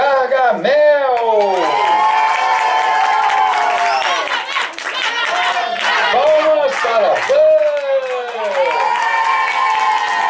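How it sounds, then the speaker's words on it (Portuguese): A street theatre crowd claps and cheers loudly for the character Gargamel, with shouting voices layered over scattered clapping throughout. "Palmas para Gargamel!"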